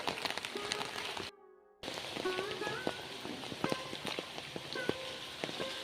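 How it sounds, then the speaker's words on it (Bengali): Continuous rain falls with a soft, even patter, interrupted once by a short gap, while faint chirps and distant background sounds drift through. "এই যে অনবরত বৃষ্টি পড়ছে"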